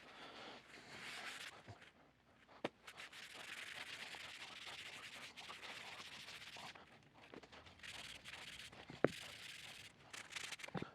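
Cloth wiping medium walnut Danish oil onto wood, a soft steady rubbing and scrubbing in repeated strokes, close and quiet, with occasional small knocks.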